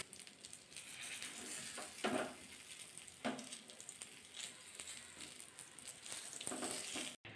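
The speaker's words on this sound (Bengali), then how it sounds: "এবার কিন্তু বেগুনগুলো উল্টিয়ে দিতে হবে। একদিকটা কিন্তু ভাজা হয়ে গেছে।" Eggplant frying in mustard oil in a frying pan gives a continuous hissing sizzle, close and fairly quiet, broken by a few louder spatters and crackles as pieces shift.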